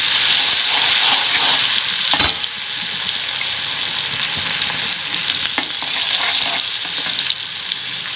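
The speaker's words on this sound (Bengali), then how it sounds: "তো দেখো, আমি টমেটোটা দিয়ে দিচ্ছি আগে একটু ভাজা হওয়ার জন্য" Tomato fries in hot oil with turmeric, a loud continuous hissing sizzle close up, broken by a couple of sharp stir scrapes, with no voices.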